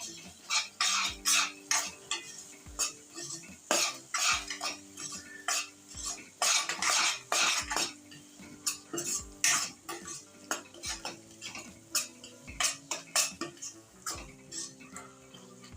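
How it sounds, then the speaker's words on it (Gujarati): A spoon steadily stirs and scrapes a sugared spice mix into kantola curry in a cooking pan, with repeated close metallic clinks and scrapes and a faint sizzle underneath. No voices. "ને બધો મસાલો આપણે સરસ રીતના મિક્સ કરી લેશું"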